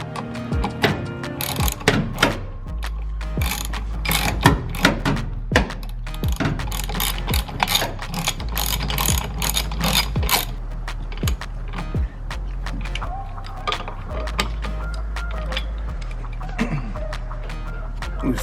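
A ratchet wrench with a 17mm socket turns a bolt fitted with a lock washer on an LG front-loading washer that is being repaired, giving rapid, close, repeated clicking in bursts, interspersed with metallic knocks.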